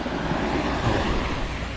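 Small waves on a calm sea washing in at the shoreline, heard as a steady, close, broadband wash of surf with some wind rumble, brief and without voices.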